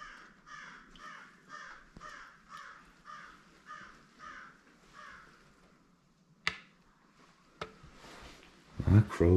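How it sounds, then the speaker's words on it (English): A crow caws repeatedly outside an old decaying bungalow, roughly a dozen evenly spaced harsh calls at moderate distance, followed by a few sharp knocks and some nearby handling noise. "That crow's going crazy."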